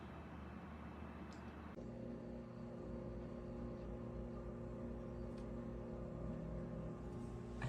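An Alpicool CHS55 dual-zone 12-volt portable refrigerator running, a steady low mechanical hum with tonal compressor whine that starts abruptly and continues evenly, fairly quiet and close.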